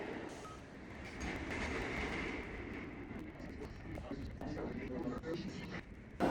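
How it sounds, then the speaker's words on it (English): Subway train pulling into a New York City station on New Year's Eve, a rumbling, rattling roar with clicking wheels and screeching under faint voices, heard from the platform. "And voila, the train's here"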